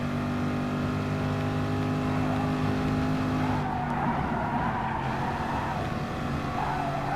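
Race cars in Gran Turismo Sport during a Manufacturer Series exhibition race on the final lap, engines droning at a steady high pitch with tire noise and a brief shift in tone midway, no talking.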